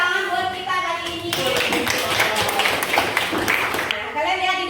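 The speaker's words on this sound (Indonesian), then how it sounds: "Oke, tepuk tangan buat kita kali ini." A classroom of students claps their hands together in a brief, dense burst of applause, with a teacher's voice speaking just before and just after the clapping.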